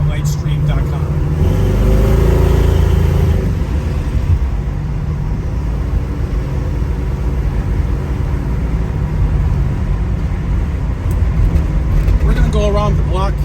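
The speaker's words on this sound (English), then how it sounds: "Go around the block here and make this little drive a little bit longer for us." A 1972 Chevrolet Nova with a 427 engine driving around the block, its loud, continuous interior engine drone swelling early on and then settling into a steady cruise, with a person talking over it.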